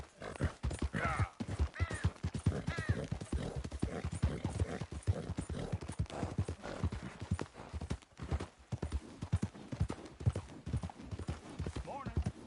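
Horse hooves clip-clop steadily in Red Dead Redemption 2, a close, rhythmic trot running throughout, with a voice talking over parts of it and a brief whinny.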